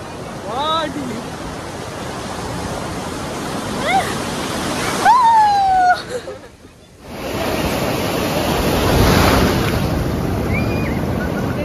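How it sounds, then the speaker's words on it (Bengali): Big sea waves crash and wash up on the beach at Puri, a loud broad surf roar rising and falling, with a brief dropout midway and faint voices and whistles in the background. "মানে খুব বড় বড় ঢেউ আসছে"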